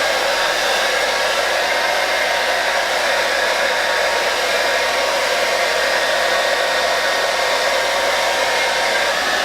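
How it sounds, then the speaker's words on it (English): A hair dryer blows on natural hair during at-home coloring, a loud constant whooshing hum that runs unbroken and close by, with no talking. "Okay, let me take my dryer."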